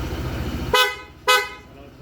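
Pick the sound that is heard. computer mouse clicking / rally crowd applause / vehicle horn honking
vehicle horn honking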